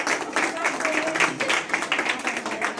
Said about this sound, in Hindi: मैं चाहूंगा जोरदार तालियों से उसका स्वागत करें